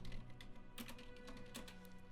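Quiet tapping on a computer keyboard, a light scatter of clicks with a couple of sharper keystrokes, faint against a steady background hum.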